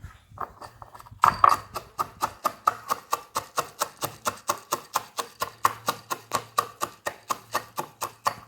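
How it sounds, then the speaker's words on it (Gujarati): Roasted peanuts being pounded by hand, a steady run of about two dozen evenly spaced, close, loud thuds after a short quiet start. "આ લીધા છે સિંગા દાણા શેકેલા લીધા આપણે એને ખાંડી નાખીશું"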